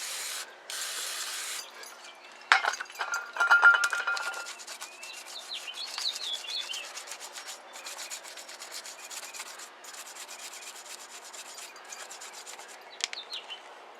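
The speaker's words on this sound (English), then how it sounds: "It definitely is working. It's taking a little scrubbing." Scrubbing a dirty wheel on a 1978 Lincoln Mark V with brake cleaner: steady rubbing and brushing strokes with a short spray burst near the start, close and moderately loud, with no talking.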